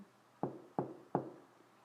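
Three evenly spaced knocks on a door, soft and fairly close, each a short hollow thud in a steady rhythm against a quiet background.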